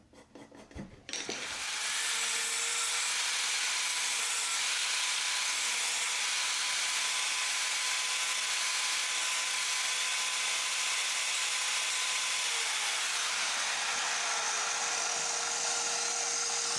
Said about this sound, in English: using a second wooden fence on my saw and the sliding mechanism of the miter saw, I can cut dowels moving the piece sideways from cut to cut